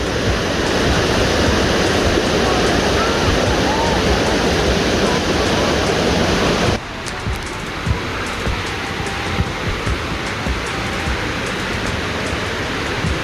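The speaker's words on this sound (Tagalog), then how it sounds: "Daranac Falls." Daranac Falls gives off a loud, continuous rush of falling water. Partway through, the roar abruptly drops to a softer but still steady wash, as if from farther away.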